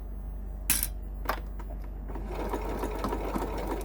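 A sewing machine stitches through a large bag, its fast, steady mechanical whirr running close by, broken early by a couple of sharp metallic clicks, with no talking.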